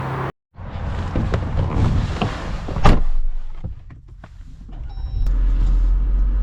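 An AEV Wrangler Classic starts driving, with a door thud, a short whirring burst and a sharp clunk. A steady engine hum and road rumble follow from inside the cabin.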